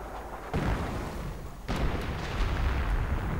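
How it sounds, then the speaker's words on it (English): Artillery strike in a WWII real-time strategy game: two heavy booming impacts land a second apart, followed by rumbling battlefield noise and scattered crackling, with no voices. "Did he seriously just use an artillery strike on a bloody Kettenkrat?"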